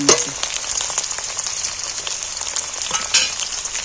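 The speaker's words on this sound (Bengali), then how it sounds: "এইবার আদা কুচোনো রসুন কুচোনো তুলে দিচ্ছি" Chopped ginger and garlic fry in hot oil with a close, steady crackling sizzle, broken by occasional louder pops and stirring scrapes.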